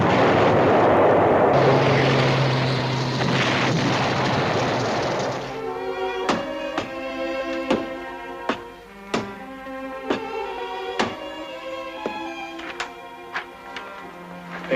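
Battalion artillery fire in a war film battle scene: a loud roaring rumble of blasts gives way to a run of sharp, repeated booming shots at irregular intervals over a continuous drone, with no talking.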